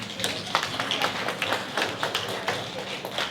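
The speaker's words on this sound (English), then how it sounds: "Give a big round of applause to all of them." Scattered hand clapping from an audience at a sustainability innovation and invention carnival, honouring presentation participants; light, fairly quiet claps in an uneven patter.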